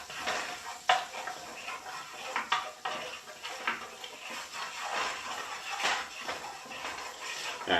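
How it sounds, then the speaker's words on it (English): Butter goes into a hot pan for sirloin steak, with pans and utensils clattering over a steady soft sizzle. Scattered clinks and knocks punctuate the sizzle, close and moderately loud. "Alright, this butter's going in."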